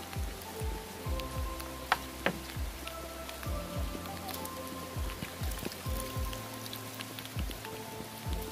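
Rain patters steadily on a surface outdoors, soft and continuous with scattered close drips, no voices.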